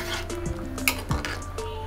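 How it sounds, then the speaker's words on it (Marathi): Tamarind is stirred into a prawn curry in a new brass pot, giving close metallic scrapes and clinks of a spoon against the pot, with a couple of louder knocks. "स्नेहानं चिंचेचा कोट टाकणार आहे आणि मस्त पैकी मिक्स करून घेणार आहे."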